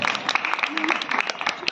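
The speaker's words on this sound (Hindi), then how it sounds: "सबसे पहले जोरदार तरीके से तालियां बजाएं।" A short burst of applause from a crowd at a Jain religious discourse, dense clapping throughout.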